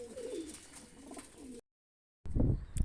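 Pigeons in a Punjab village loft, including a female, give low throaty coos for about a second and a half. A brief silence follows, then a louder, closer burst of sound.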